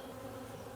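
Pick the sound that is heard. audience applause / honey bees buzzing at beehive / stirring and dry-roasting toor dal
honey bees buzzing at beehive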